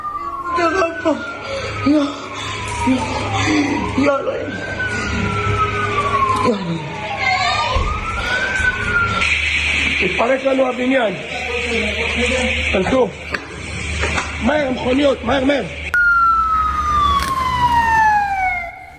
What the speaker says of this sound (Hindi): आप देख रहे हैं फायर ब्रिगेड की गाड़ियां मौके पर पहुंच रही हैं